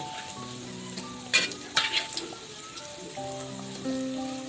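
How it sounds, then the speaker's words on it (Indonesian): Food frying in a pan, a steady crackling sizzle with a few louder spits and stirring clatters, while soft music plays underneath. "Lalu kita goreng."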